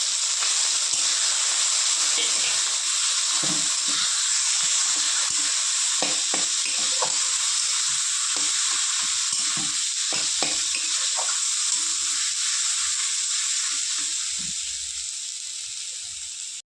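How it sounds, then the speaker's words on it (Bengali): Bata paste sizzling steadily in hot oil, a loud continuous frying hiss with scattered soft stirring knocks and pops throughout, fading slightly at the end. "তেল গরম হয়ে গেছে, এবার বাটাগুলো দিয়ে দেবো।"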